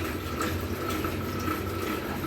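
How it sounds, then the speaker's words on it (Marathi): Water runs steadily into a container as ice cubes sit inside it, a soft, continuous pouring and bubbling heard close but fairly quiet, with no voices over it. "आईस क्यूब घेतलेली आहे पाणी भरतोय"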